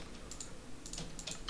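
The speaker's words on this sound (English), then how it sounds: "Why do you have an old Apple keyboard?" Quiet, quick keystrokes on an old Apple computer keyboard, a short irregular burst of light clicks heard close up in a calm room, with no voices.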